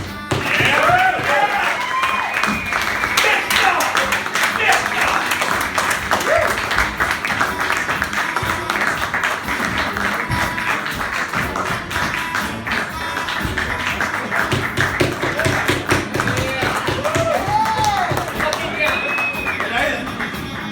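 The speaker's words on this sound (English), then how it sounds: "I want to keep your applause, your wooing, your energy going the entire time." A comedy-club audience claps and whoops to welcome a comedian to the stage, a dense, steady round of applause with scattered cheers lasting the full stretch.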